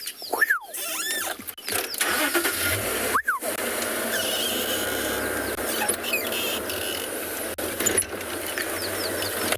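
An open safari vehicle rattles and clanks over a bumpy road in the South African bush. Low engine rumble runs beneath the jolting, and birds whistle and call nearby.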